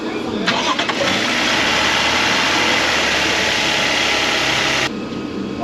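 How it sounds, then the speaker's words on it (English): A 2022 Toyota Tundra is started in a garage for an oil change. The engine cranks, catches and settles into a loud, steady idle close by, then the sound drops sharply near the end. "right now, start up the engine and let's check the oil level on the stick"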